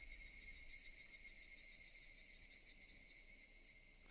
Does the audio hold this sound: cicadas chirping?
yes